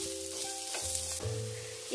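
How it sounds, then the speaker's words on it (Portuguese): Guanciale strips fry in a hot pan, a steady crackling sizzle with brief bursts of popping fat over a constant hiss, close and clear, with no talk. "já tá bem aquecidinha para fritar ele. E agora eu vou deixar aqui bem douradinho esse guanciale."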